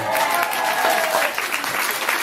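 Concert audience at the FrancoFolies festival in La Rochelle applauding loudly and steadily, a dense wash of clapping from a large crowd that carries through the whole moment.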